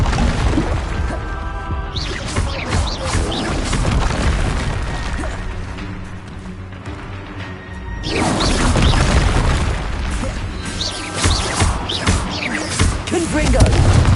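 Blasting-curse explosions in the Hogwarts Legacy video game erupt as heavy, booming bursts, one block near the start and a longer rumbling stretch after a brief lull, loud and close, with shouted voices over the blasts.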